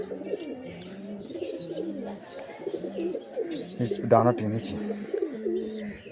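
Malbai pigeons in a home loft coo in low, repeated rolling bursts close by, while someone talks over them.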